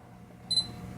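A Sony A6500 mirrorless camera gives a single short, high focus-confirmation beep, followed by a soft shutter click, close and isolated against low room noise.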